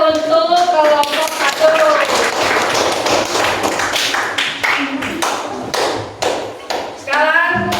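A classroom of students claps for a group after a peer-teaching activity, dense clapping filling the room throughout while voices talk over it.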